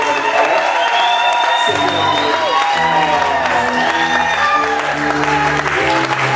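A church congregation applauds and cheers loudly for a pastor as he walks forward, dense continuous clapping with whoops and voices throughout, while an organ or keyboard plays sustained chords underneath.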